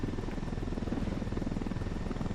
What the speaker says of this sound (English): Stealing supply choppers to help cartel crushing rebels.